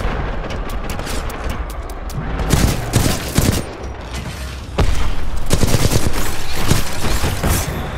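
Dense bursts of video game gunfire in Titanfall 2 strike the player, a loud continuous barrage of rapid shots and impacts that swells sharply partway through and stays intense to the end.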